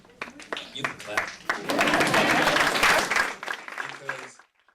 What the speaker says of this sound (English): And you can clap.